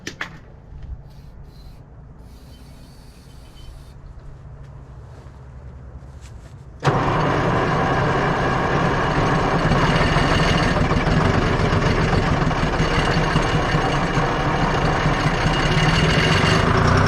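Engine on a machine being repaired, with batteries newly hooked up, cranks quietly with faint rubbing for about seven seconds, then catches and runs loud and steady, close up, with no talk.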